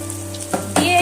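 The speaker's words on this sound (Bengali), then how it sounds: "আলুটা কুচে রেখেছিলাম সেটা আমি তেলের মধ্যে অ্যাড করে দিলাম" Oil sizzles steadily with a low hum beneath, then a louder crackling surge as chopped potatoes hit the pan, close by.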